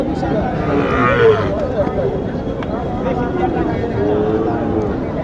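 Cattle, including a young heifer, low and moo amid a noisy crowd of people talking, a busy outdoor cattle market in Naogaon, Bangladesh, with constant background chatter.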